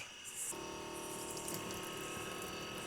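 A faucet turns on for a quick wash at a humid, hot camp in the Blue Ridge Mountains. Steady running water hisses close by after a brief quiet start, with no one talking.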